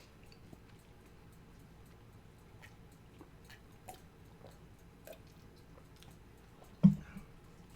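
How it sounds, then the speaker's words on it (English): Someone eats nearby with quiet, sporadic crunching and squishy chewing clicks, followed by one sharper bite near the end, all fairly faint against a still background. "Excuse me while I eat. Hopefully you don't hear me crunching."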